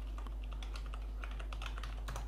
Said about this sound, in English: I'm typing git checkout minus b and the name of that branch